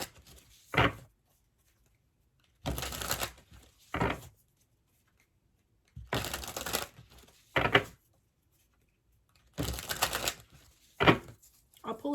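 Pink passion oracle cards being shuffled in a handful of sharp, papery bursts: a longer riffle followed by a quick flick, repeated about three times with quiet pauses between, close and fairly soft.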